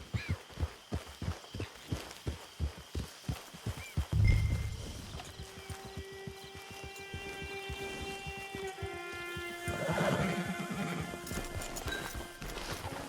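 A horse in the Red Dead Redemption 2 video game trots with steady clip-clopping hooves, then snorts and gives a loud whinny near the middle, with game music and ambience underneath.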